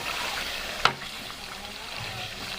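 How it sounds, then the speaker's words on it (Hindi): Chicken with salt and biryani masala sizzles steadily in a pan for chicken biryani, a continuous close frying hiss broken once by a sharp metallic clink early on. "अब इनकी भुनाई कर लेते हैं अच्छी तरह से।"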